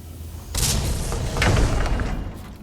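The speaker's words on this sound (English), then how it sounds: "Everyone clear? Explosion imminent." Explosives detonate in Guild Wars 2, a sudden deep boom that bursts in after a short quiet and then rolls into a second rumbling blast, loud and close, with no speech.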